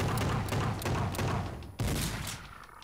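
Rapid gunfire from a weapon in the video game Project Warlock, during a boss fight against The Great Old One: a dense, loud burst of repeated shots that tails off, then one sharp blast and a fading echo.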